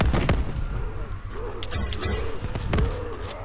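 Gunshots from a gun in a Minecraft zombies game, a handful of sharp, punchy cracks spaced irregularly over a low background, close and loud.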